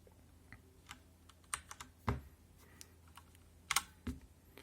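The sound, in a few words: pressing keys on HyperX Alloy FPS Cherry MX Brown keyboard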